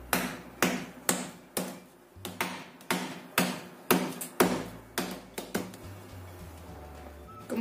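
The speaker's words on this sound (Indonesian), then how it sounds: "Kita memarkan 2 batang sereh." Two lemongrass stalks are pounded to bruise them, a steady run of about fifteen close, sharp thuds at a brisk, slightly uneven pace.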